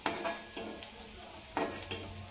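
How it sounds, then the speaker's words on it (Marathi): A spatula stirs green chillies, asafoetida powder and turmeric in hot oil in a pan, giving several distinct scraping strokes over a low sizzle, close and fairly quiet. "छान असे हलवून घेऊ।"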